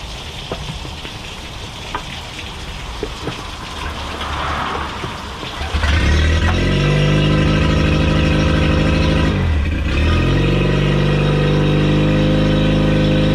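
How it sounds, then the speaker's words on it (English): A Tohatsu 8hp four-stroke outboard motor cranks with a rough, clattering start, then catches and settles into a loud, steady running drone, with a brief dip before it holds its idle. "Let's see if we can get it started."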